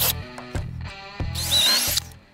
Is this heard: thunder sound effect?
no